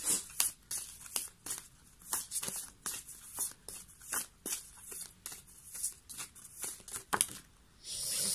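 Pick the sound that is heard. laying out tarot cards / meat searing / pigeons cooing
laying out tarot cards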